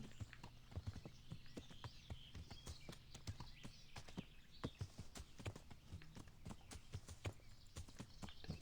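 Steady clip-clop of horse hooves at a walking pace in the video game Kingdom Come: Deliverance, a continuous rhythmic clatter over a faint low hum, with no voices.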